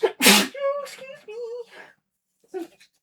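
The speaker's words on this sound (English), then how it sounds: "That was a loud sneeze." A single loud, sharp sneeze bursts out near the start, followed by brief voiced sounds and a short exclamation.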